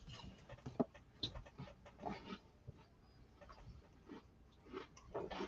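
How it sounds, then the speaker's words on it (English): An animal crunches dry food at close range in uneven, quiet bursts of chewing and biting, with no talk over it. "Could you crunch any louder? You guys hear him eating back there?"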